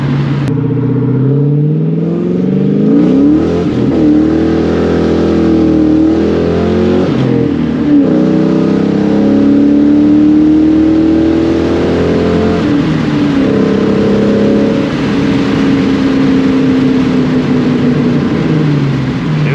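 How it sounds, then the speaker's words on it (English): A V8 Mustang engine revs hard and loud up close, its deep exhaust note climbing and falling in pitch over a sustained run. "That's what I love so much about the exhaust."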